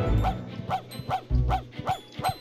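A dog in The Grinch video game barks in a steady series of about seven evenly spaced, close barks over low game background sound.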